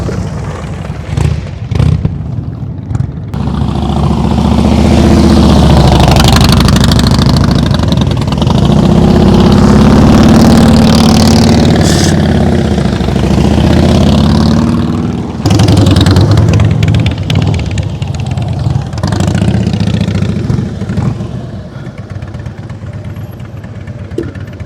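A motorcycle engine runs loud and close during slow-speed riding practice, rising from a rough idle into a sustained throttled drone before dropping back and steadying, with wind noise and no clear talking.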